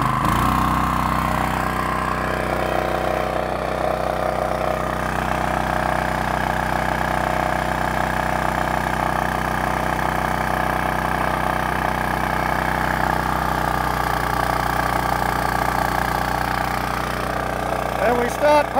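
The engine of a Toro Monsoon water pump runs steadily close by and warms up, holding an even idle drone before rising slightly as it is throttled up.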